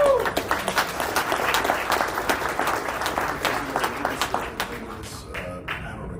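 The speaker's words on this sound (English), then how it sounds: "First of all, I think we should give the mayor a hand clap." A conference audience claps for the mayor, a dense burst of hand claps with sharp individual slaps that thins out and fades toward the end, with some voices mixed in.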